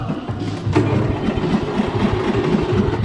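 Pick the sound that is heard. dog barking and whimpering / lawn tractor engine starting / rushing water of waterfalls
lawn tractor engine starting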